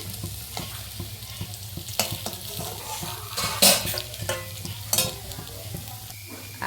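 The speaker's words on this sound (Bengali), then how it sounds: "এইভাবে সব বড়াগুলো ভেজে নিই" Pumpkin flower fritters frying in hot oil give a steady sizzle, with sharp clinks and scrapes of a utensil against the pan cutting through at intervals.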